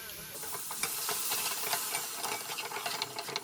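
A spoon scrapes and stirs thick masala and yogurt in a pot for chicken biryani, with soft steady hissing and faint sizzling underneath.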